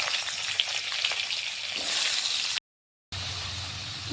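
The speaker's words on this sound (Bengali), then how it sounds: "এবার আমি শুকনো লঙ্কা, তেজপাতা আর জিরে ফোড়ন দিলাম।" Whole spices, including dried red chili, bay leaf and cumin seeds, fry in hot oil for a paneer dish with a steady close sizzle and crackle. The sound cuts out for a brief silence, then the sizzling resumes.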